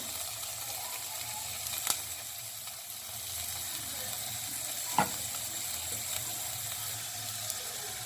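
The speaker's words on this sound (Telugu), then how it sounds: "సోయా సాస్ వేస్తున్నాను." Soy sauce hits a hot pan of vegetable noodles, giving a steady hiss and sizzle with a couple of sharp clicks of utensil against the pan, moderately quiet and without talk.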